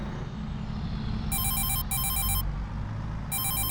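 A telephone rings in Farming Simulator 22 with a bright, repeating electronic trill in three bursts, set over a loud, steady rumble of farm machinery.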